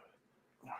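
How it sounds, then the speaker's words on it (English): A single dog bark rings out near the end, after a quiet stretch of room tone, fairly close and moderately loud. "barking at me to go out."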